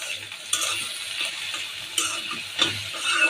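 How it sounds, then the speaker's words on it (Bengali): Vegetable bhaji seasoned with turmeric and chili powder is stirred in a pan, with soft sizzling under several distinct scraping and clinking strokes of a utensil against the metal. "এই জন্য আমি এখন একটা ভাজি করে নিচ্ছি।"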